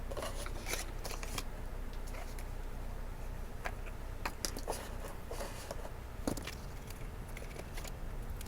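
Scissors snip through strips of material for a festive elf Christmas gift box, producing a run of quick, close cutting clicks over a steady background hiss.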